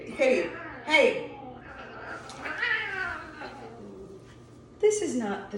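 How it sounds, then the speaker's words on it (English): Cats meow repeatedly and insistently indoors, several loud drawn-out cries rising and falling close by, with people speaking over and between them. "the cats are gonna drive me crazy."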